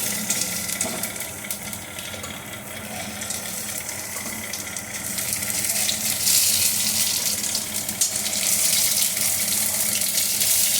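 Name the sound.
water poured into pot to boil potatoes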